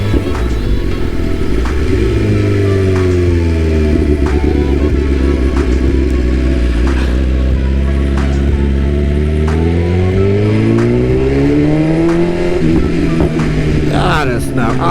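BMW engine pulling through the gears during a ride, a loud, close, steady drone whose pitch climbs and dips as it accelerates and shifts, with wind rush throughout.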